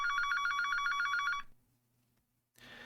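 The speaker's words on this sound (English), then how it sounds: "startled by my phone ringing." A phone rings with a rapid electronic bell trill for about a second and a half, then stops, followed by a brief rustle.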